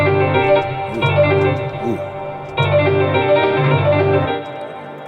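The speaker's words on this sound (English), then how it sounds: "Keyscape. And the preset that I have is I used a wash preset" A washy, reverberant piano from the Keyscape virtual instrument plays sustained chords in two loud phrases, with a brief pause between them and a short vocal exclamation in the middle.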